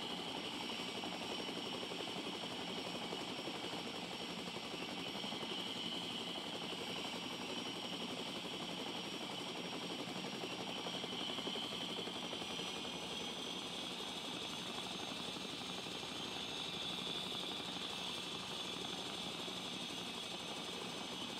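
Helicopter flying in the survival game The Front, a steady whirring rotor and engine drone that holds at an even, fairly loud level throughout with no talking.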